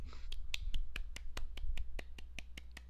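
Soft hand claps during a live podcast, about a dozen light, evenly spaced claps in a quick steady rhythm, close and fairly quiet over a low background hum.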